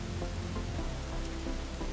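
Rain falls in a video game about building a fishing boat, a steady, even hiss of drops that stays constant throughout with no voices.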